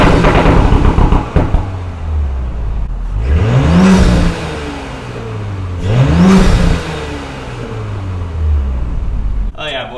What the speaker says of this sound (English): The exhaust note does sound a little smoother at first.